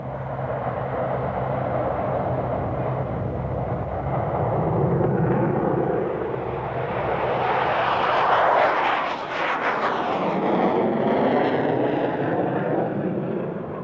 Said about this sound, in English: it's just a stock F-15